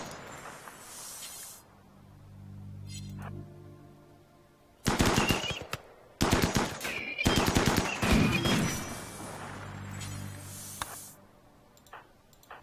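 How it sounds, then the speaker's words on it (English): Bursts of rapid gunfire from a RimWorld firefight crackle in loud, dense volleys through the middle of the stretch, framed by quieter game ambience and a low droning hum before and after, with no talking. "A couple shots landed."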